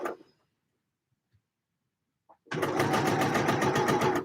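A sewing machine stitches curvy princess seams on a mock-up garment, starting abruptly after a near-silent pause with a steady, loud, rapid mechanical whir and rhythmic needle ticking.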